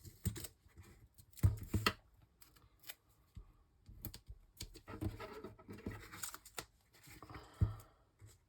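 Scissors snipping through foam adhesive pads for a handmade card, a run of close, dry scratchy cuts and small clicks in irregular bursts, with no talking.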